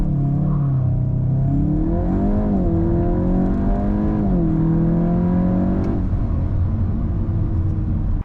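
A 2024 VW Golf GTI 8.5 Clubsport, 300 hp, front-wheel drive, accelerating hard: loud engine note climbs steadily through the gears with brief dips at each shift, steady cabin rumble throughout, no talking.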